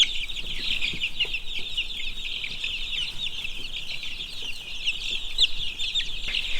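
Young chickens, fledging with tail and wing feathers coming in, cluck and chirp steadily at close range inside a shop, in a dense overlapping chorus of soft calls without talk.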